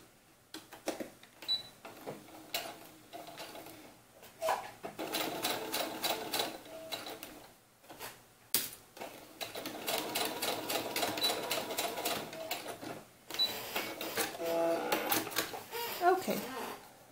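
Sewing machine stitching a quarter-inch seam on a doll romper, running in several close, rapid mechanical bursts separated by short pauses, with occasional handling noise between runs.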